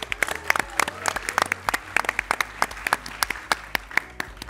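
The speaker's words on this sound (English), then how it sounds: "Audience, give a round of applause for Carlos and Ankita." A studio audience applauds two contestants at a speed-build challenge, with dense, lively clapping throughout that sits close and fills the room.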